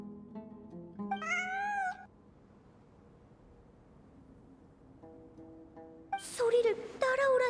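A cat meows in the Genshin Impact Sumeru event, a few clear mewing calls near the start, then a pause over quiet ambience, and more insistent meows toward the end, with brief voices between.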